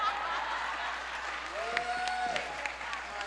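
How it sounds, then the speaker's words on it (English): An audience claps continuously at a church service, a full, steady patter of many hands throughout, with a voice speaking faintly underneath. "I should have let y'all clap."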